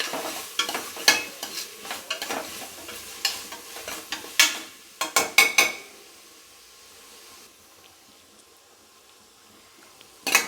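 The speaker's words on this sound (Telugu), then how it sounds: "ఈ అల్లం వెల్లుల్లి పేస్ట్ ఏదైతే ఉంది, ఇది పచ్చి వాసన పోయేలాగా బాగా వేపుకోవాలండి మనం" Ginger garlic paste frying and being stirred in a pan for Hyderabadi bagara rice: a run of sharp scraping stirs and sizzling bursts over the first half, then a softer, steady sizzle alone.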